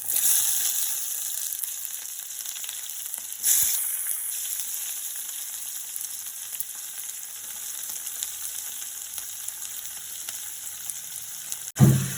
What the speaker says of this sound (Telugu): ఇప్పుడు ఆయిల్ వేడెక్కింది మనం ఇంతకుముందు చూసుకున్న ఇంగ్రీడియంట్స్ అన్నీ వేసేద్దాం ఇందులో